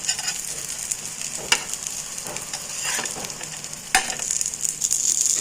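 Steady sizzling of vegetable cutlets frying in hot oil, with occasional pops and crackles, constant and close, no voices.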